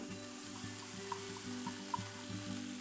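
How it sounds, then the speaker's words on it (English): Crumbled tofu frying in a tablespoon of avocado oil in a non-stick pan over medium heat, a soft, steady sizzle with faint crackles and occasional light pops, quiet and continuous with no talk. "Non-stick pan, medium heat, 1 tablespoon avocado oil, crumbled tofu."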